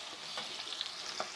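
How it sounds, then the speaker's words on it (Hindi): Onion rings fry in hot oil, giving a steady close sizzle that stops abruptly. "पहले हम ऑनियन फ्राई करेंगे रिंग्स"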